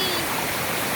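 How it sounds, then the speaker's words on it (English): Cambugahay Falls, a three-tiered waterfall on Siquijor Island in the Philippines, roars as a steady, dense wash of falling water close by, with no break in the rushing texture. "Cambugahay Falls in Siquijor"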